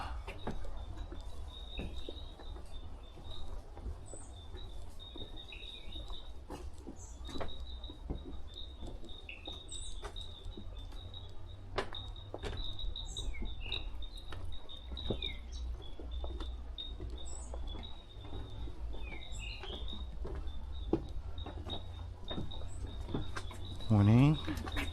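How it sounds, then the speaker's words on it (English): Frogs calling in Cape Town fynbos, scattered faint chirps and clicks over a steady high insect-like trill and low outdoor rumble, with sporadic soft taps and a brief louder rustle near the end. "Sounds of frogs."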